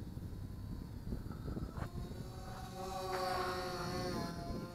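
Mirarobot M600 VTOL park flier RC airplane flying over a park, a faint buzzing motor whine with shifting tones that swells slightly midway, set against steady outdoor wind noise.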